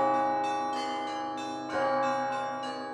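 Church bells ring in the bell tower of the New Jerusalem Russian monastery, several overlapping strikes blooming into a rich, sustained metallic wash that swells again partway through, with no voices.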